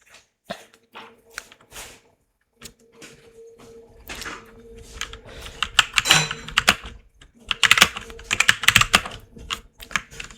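Rapid keystrokes on a computer keyboard while text is entered into a PowerPoint text box, coming in uneven bursts that grow busier and louder toward the end, with a low steady hum underneath and no speech.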